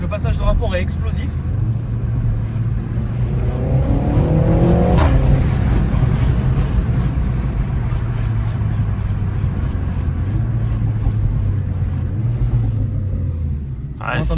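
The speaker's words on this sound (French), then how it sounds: "C'est vrai que le passage de rapport est assez explosif." Renault Megane 4 RS 280 hp engine under sustained acceleration with sharp, punchy gear shifts, a loud continuous close-up rumble with rising and falling pitch over about fourteen seconds.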